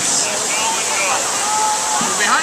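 Water pours over St. Anthony Lock and Dam in Minneapolis, a loud, steady rushing roar heard from the bottom of the dam, with people talking over it.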